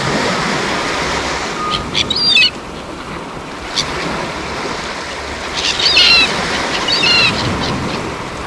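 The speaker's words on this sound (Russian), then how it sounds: "Чайки голуби бьются за еду." Seagulls and pigeons squabble over food on the Morskaya Zvezda beach in Lazarevskoye, Sochi, with a few short, shrill bursts of calling over a steady wash of surf and open-air noise.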